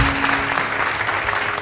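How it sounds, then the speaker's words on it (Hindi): Studio audience applause on a TV morning show, a dense steady wash of clapping held at even loudness throughout, with a faint tone lingering underneath. "फरा के लिए बहुत सारी तालियां दी"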